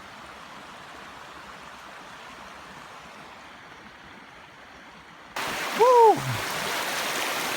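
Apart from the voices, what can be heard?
river rapids flowing while wading across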